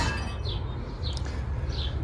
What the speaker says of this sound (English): If you hear the wind chimes in the background, that's our child.